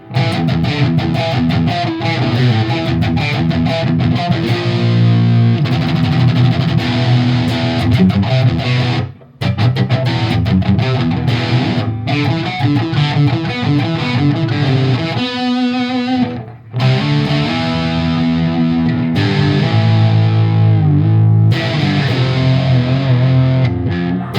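Heavily distorted electric guitar riffs play loud and dense through an amp pushed to ultra-high modern gain. Chugging passages are broken by a couple of brief stops and a short cleaner, ringing phrase midway.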